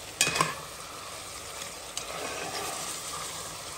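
Rougail saucisson, a sausage stew, simmers and sizzles softly in a pan with a steady low crackle, plus a few sharp utensil clicks near the start and one around the middle.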